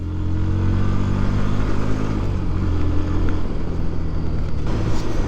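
A Bajaj Pulsar NS160 160cc motorcycle on a riding run, its engine droning steadily and loud throughout with a low, even exhaust hum and wind rush, no voices.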